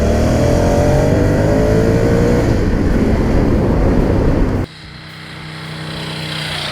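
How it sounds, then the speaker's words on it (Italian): A Ducati Scrambler 1100 motorcycle engine revs and pulls hard from about 40 km/h with a rising tone, then cuts off abruptly, leaving a quieter idle-like hum that slowly builds. "vi faccio sentire anche la progressione del motore"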